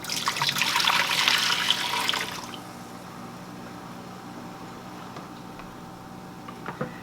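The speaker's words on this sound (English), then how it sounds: "I've ended up with about 4 cups of liquid, and I'm going to put that back in the pot now." Dandelion bloom liquid, about four cups, poured into a pot, a loud splashing gush for about two seconds that then fades to quiet room tone with a small clink near the end.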